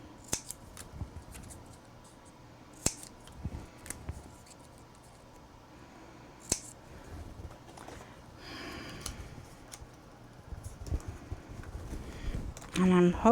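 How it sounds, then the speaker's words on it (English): A few crisp, isolated scissor snips cutting a slit in paper for a paper-bag scrapbook album, close and fairly quiet amid light handling noise and soft room sounds. "I'm going to cut a slit in them"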